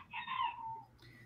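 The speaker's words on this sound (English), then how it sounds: "Yeah, the chickens are here." Chickens calling at a quiet distance, a single drawn-out cluck or squawk that rises and fades over about a second, alone with no talk.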